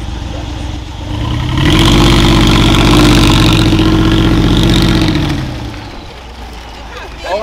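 A Mercedes G-Wagon Brabus engine runs close by, a loud low rumble that swells and holds for a few seconds, then eases back to a quieter idle.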